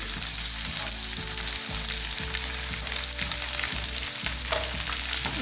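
Potatoes, onion, tomato and green chillies frying in a pan for egg masala, a steady close sizzle with repeated scraping stirs of a spoon through the mix, no voices.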